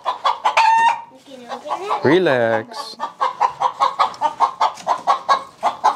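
An egg-bound chicken clucks and squawks close by in quick repeated bursts, with a brief spoken word from a person among the calls.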